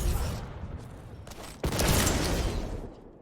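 Railgun fire in a Quake duel match, a sharp burst at about 1.6 seconds followed by sustained crackling game noise, with other weapon and movement sounds throughout.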